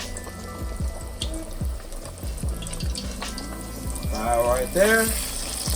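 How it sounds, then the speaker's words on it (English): Chicken dropped into hot oil to deep fry for honey fried chicken, a steady close bubbling sizzle running throughout, swelling slightly louder toward the end, while a person speaks briefly. "Just gonna put it in there, let it deep fry."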